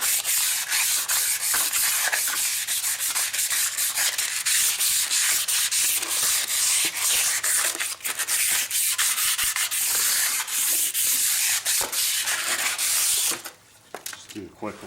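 A brake rotor from a 2005 Jeep Grand Cherokee is scuffed with 100-grit sandpaper, giving a continuous, loud, close-up rubbing rasp that stops abruptly near the end.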